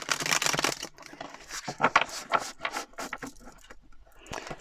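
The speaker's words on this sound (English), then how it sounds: "So I'm just going to shuffle these one more time." A deck of tarot cards is shuffled close up, giving bursts of crisp riffling and flicking with short pauses between, loudest at the start and ending in a few scattered taps and rustles.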